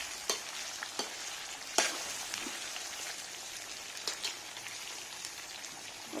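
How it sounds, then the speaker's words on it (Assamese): Duck pieces with potatoes and pumpkin frying in a pan give a steady hiss and sizzle, punctuated by sharp clinks and scrapes of a stirring utensil, close and without talk. "এইখিনিতে আৰু অলপ দেৰি ভাজিব লাগিব।"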